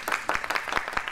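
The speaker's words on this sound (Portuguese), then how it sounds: "Palmas, pessoal!" A small audience claps at an evening event in Brazil, a brief burst of irregular hand claps, close and moderately loud with no talk over it.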